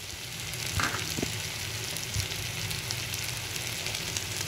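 Tomatoes with turmeric, chili and coriander powders sauté in a pan for paruppu urundai kuzhambu. A steady, close sizzle runs throughout, broken by a few light stirring scrapes.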